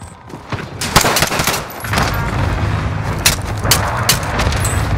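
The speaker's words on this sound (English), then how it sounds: "Precision airstrike inbound." Precision airstrike in Call of Duty Warzone on Rebirth Island, a rapid series of loud, sharp explosive cracks and booms over a continuous rumbling roar.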